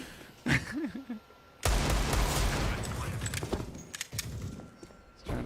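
Gunfire bursts in a competitive Rainbow Six Siege-style esports match on the Train map, with a sustained loud volley of rapid shots after a brief lull, then further scattered cracks close by; a voice briefly sounds early on.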